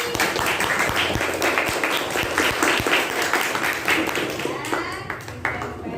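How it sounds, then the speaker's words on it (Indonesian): A classroom of fifth-grade schoolchildren claps for a class group, brisk overlapping hand claps that run steadily and then thin out toward the end. "Tepuk tangan untuk kelompok tasbih."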